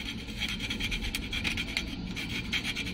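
Coarse sandpaper rasps steadily across a car's oil pan in quick back-and-forth strokes, close and continuous, with no voices.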